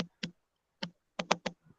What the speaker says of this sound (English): This typing, I'm actually hearing the feedback.